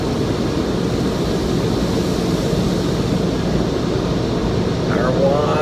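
Powerful continuous blast from car wash air dryers, a loud roaring whoosh that stays steady throughout, rising slightly near the end.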